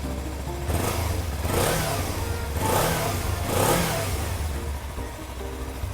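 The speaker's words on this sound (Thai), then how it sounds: "เราไปฟังเสียงท่อกันเลย ท่อนุ่มๆนะครับผมสไตล์ 2 สูบนะฮะ" A Kawasaki Ninja 300 twin-cylinder motorcycle, a 2016/17 model, revving its exhaust in three rising and falling bursts over a low idle, close and moderately loud, with no talk.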